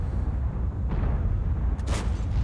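The main gun of a Japanese STA-2 tank fires in a video game, a single deep boom rising out of steady low engine rumble, with a sharper crack-like burst following near the end.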